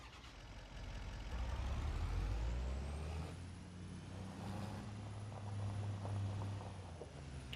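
A farm truck's engine runs with a deep rumble that swells and eases, heard quietly on a family farm during silage chopping, with a faint high whine and a hiss like an air brake partway through.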